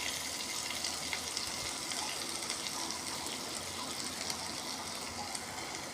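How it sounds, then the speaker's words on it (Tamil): Rice upma ingredients sautéing in a pan with salt and asafoetida, a steady, fairly faint sizzle that runs without a break and sounds almost like running water. "இப்போ நல்லா வதங்கட்டும்."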